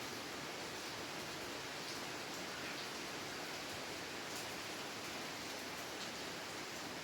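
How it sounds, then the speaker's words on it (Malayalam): Heavy rain pours outside in a dense, unbroken wash of hiss that stays even and steady from start to finish, with no voices over it. "പുറത്ത് നല്ല മഴ പെയ്യുന്നുണ്ട്"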